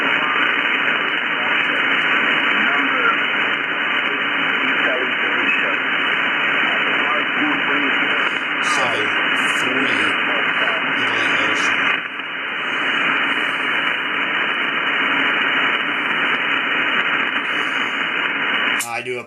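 Interference from stations on adjacent frequencies on the 20-meter amateur band: band-limited static hiss and garbled, chattering voices bleed through a radio receiver continuously, with a brief dropout midway and faint speech buried in the noise.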